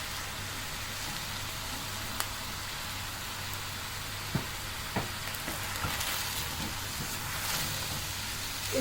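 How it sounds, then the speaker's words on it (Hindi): Green chillies and spices fry in hot oil for chicken jalfrezi, a steady close sizzle with a few light clinks of the spoon stirring the pan. "इसके साथ थोड़ा सा इसको भूनती हूँ कि मसालों का कच्चापन ख़त्म हो जाए"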